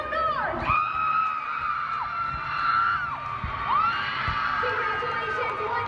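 A crowd screams and whoops in loud, sustained waves for the Naperville North dance team at a state competition, with a voice calling out over the noise.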